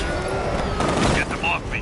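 Gunfire in Batman: Arkham Knight, a dense, steady burst of shots running through the whole stretch under game music and shouting voices.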